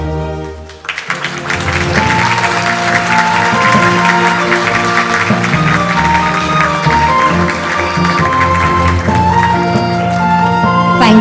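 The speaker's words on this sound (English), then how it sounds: "We'll take a photo as we applaud." Sustained applause from a crowd at an AI global forum in Seoul, steady and fairly loud, beginning after a brief quieter moment with a low hum underneath.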